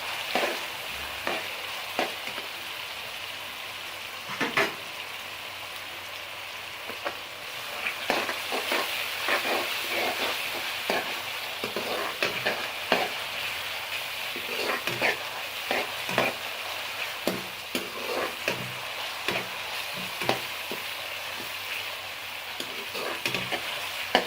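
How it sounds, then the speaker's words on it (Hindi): Ginger and garlic paste fries in a pan with a constant soft sizzle, broken by repeated scraping stir strokes that come at an uneven rhythm throughout. "अभी 10 मिनट अदरक और लहसुन के पेस्ट को आप भूनें।"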